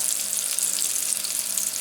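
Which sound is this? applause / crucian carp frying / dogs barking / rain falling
crucian carp frying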